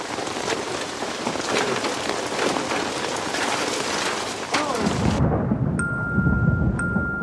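Heavy rain pours steadily onto the ground with a dense hiss, then a deep rumble of thunder rolls in near the end, with no one speaking.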